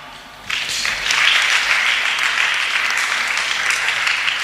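A church congregation at a Sunday service bursts into applause, a dense, sustained clapping that starts abruptly after a quiet moment and continues steadily, fairly loud and close, with no speech over it.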